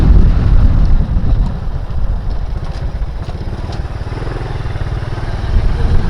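A motorcycle out on a delivery ride, its engine droning steadily and close throughout, with wind buffeting the microphone and a slight surge in loudness near the start and end.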